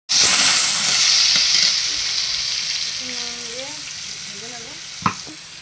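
Potatoes with panch phoron fry in a pan with steady loud sizzling throughout, easing slightly midway; a voice murmurs faintly in the background and a brief clack sounds near the end.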